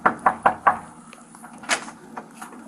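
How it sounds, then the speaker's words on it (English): Police officers knock on an apartment door: four quick firm raps, close and sharp, followed by a few fainter thuds. "The officers arrived at the apartment building and knocked on Mr. Braden and Ms. Odom's door."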